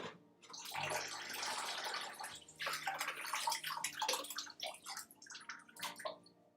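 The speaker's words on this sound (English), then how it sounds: "then we're going to do a few bits of water" Water poured from a tap into an apple cake mixture in a home kitchen, a steady rushing pour lasting several seconds with splashing, followed by lighter trickles and clinks of stirring.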